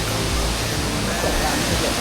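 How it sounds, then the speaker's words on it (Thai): A dense, constant rush of falling water from Lan Sadet waterfall in Thailand roars close by, steady and broadband with no pauses. "น้ำตกครับน้ำตก"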